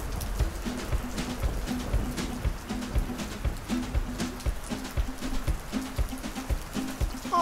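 Rain in a PAW Patrol toy cartoon falls as a steady patter on surfaces, heard throughout beneath a repeating musical background.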